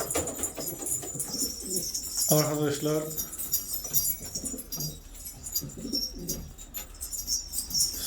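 Pigeons coo and chirp in the background while someone talks over them, with a brief metallic jangle partway through; a pigeon loft.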